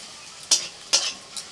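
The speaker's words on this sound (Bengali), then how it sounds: "পেঁয়াজ কুচি পেঁয়াজ রসুন ভালো করে ভেজে নিচ্ছি" Chopped onion and garlic frying in a pan, heard as three short bursts of scraping and sizzle from a spatula stirring, close-up against a quiet background.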